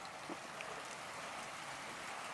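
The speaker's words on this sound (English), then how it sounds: "The raindrops are really heavy. It's like tropical rain." Heavy tropical rain pouring steadily, a faint dense hiss of raindrops on surfaces with no pauses, heard from some distance.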